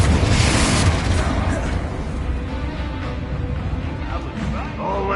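Confringo spell explosion in Hogwarts Legacy, a loud fiery burst at the start that decays into a rumbling tail, with a voice talking over the blast.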